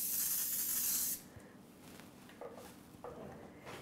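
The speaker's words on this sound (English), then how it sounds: "Give that a quick spray." A quick spray of cooking oil onto a baking dish for an apple raspberry crisp: one steady, close hissing burst lasting about a second, followed by quieter kitchen handling sounds.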